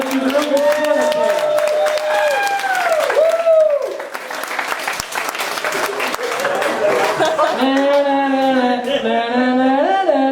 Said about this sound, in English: Give my volunteer a big round of applause